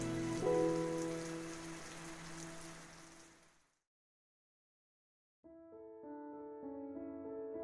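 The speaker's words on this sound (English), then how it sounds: "heavy rain began to fall." Heavy rain pours in a dense, hissing wash with soft musical tones beneath it, then fades to silence, after which gentle melodic notes continue alone.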